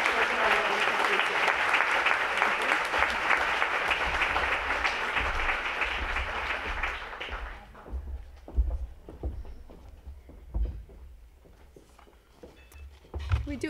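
Audience at a Healthy Schools Campaign luncheon applauding teachers, dense loud clapping for about seven seconds that stops abruptly, followed by room murmur and scattered movement.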